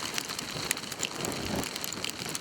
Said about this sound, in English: Several hours of freezing rain like this